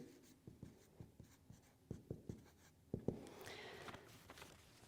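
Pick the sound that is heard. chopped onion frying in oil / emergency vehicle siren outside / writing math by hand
writing math by hand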